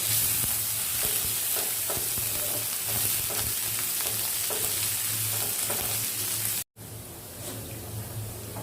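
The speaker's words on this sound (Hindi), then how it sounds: "मैं इसे सौते कर लूँगी।" Chopped onion sautéing in oil in a pan, a steady close sizzle with repeated stirring scrapes, briefly cutting out near the end before resuming.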